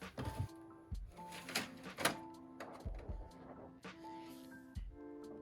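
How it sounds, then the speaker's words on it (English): A printer running a textile artwork job in a print studio, with repeated mechanical clunks and sliding, whirring passes in an irregular stop-start rhythm, close and moderately quiet. "We're gonna go ahead and send the artwork from Adobe to the printer"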